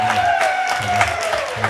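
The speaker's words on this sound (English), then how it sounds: "Round of applause for Pat there." Short burst of audience applause and crowd noise at an album launch gig, fairly loud, with tonal sound running underneath.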